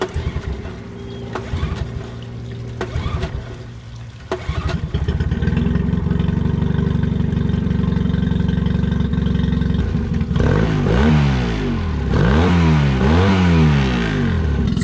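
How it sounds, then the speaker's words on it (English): Outboard boat engine with a suspected carburetor issue cranking with uneven clatter, then catching and running loud and close, revving up and down in repeated swells. "it just sounds like a carburetor issue, but let's start it up and we'll see what it actually does"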